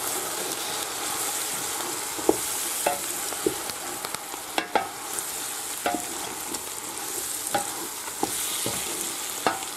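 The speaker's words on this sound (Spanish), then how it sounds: "ahora se echa el pollo y se echa harina y se remueve bien para que se mezcle" Chicken pieces and flour being stirred in a hot frying pan for pollo en pepitoria: a steady oily sizzle broken by scattered scraping clicks of the spoon against the pan, close and continuous, with no talking.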